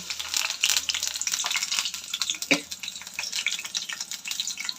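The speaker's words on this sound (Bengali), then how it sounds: "তেল গরম হয়ে আসলে দিয়ে দিলাম এখানে পেঁয়াজ কুচি" Chopped onions hit hot oil in a pan while cooking khichuri, giving a steady broadband sizzle with crackling throughout and one sharper clatter midway, close and fairly loud, with no talking.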